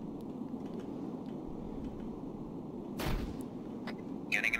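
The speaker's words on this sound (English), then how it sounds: "He advised I'm getting a frag out." Frag grenade explosion in Arma 3, a single sharp blast landing midway through a quiet, rumbling background, followed by a brief crackling burst near the end; no talk.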